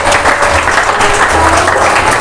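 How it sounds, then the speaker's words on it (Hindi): Loud, close applause from a gathering at a Kabir bhajan satsang welcoming a saint, a thick continuous clatter of many hands with a low hum underneath. "जोरदार ताली बजा के स्वागत करें।"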